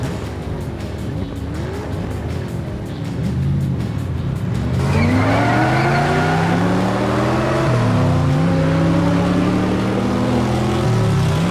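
Diecast race car in a street race hits a tyre blowout and slides sideways: continuous loud engine and tyre roar with wavering squeals, rising sharply halfway through and sustained to the end, no talk.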